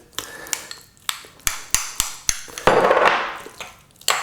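Irregular sharp clinks and knocks ring out as a utensil strikes the sides of a bowl while a salt-and-pepper dressing is stirred, with a short scraping swirl midway.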